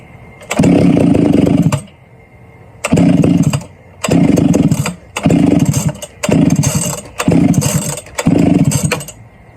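A Stihl 031AV chainsaw with a leaking fuel line roars up in repeated loud bursts, revving for a second or so and then dropping away, six times in a row instead of settling to an idle.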